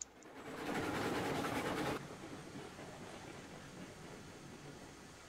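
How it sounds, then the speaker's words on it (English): Train rumble and clattering in the railway video game Railroads Online during a derailment, a loud noisy roar that cuts off abruptly after two seconds, leaving a lower steady rumble. "The train went ahead and derailed."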